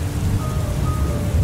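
Steady, dense rain pours down during an evening downpour outside a shop, a continuous wash of hiss with low rumbling underneath and no voices.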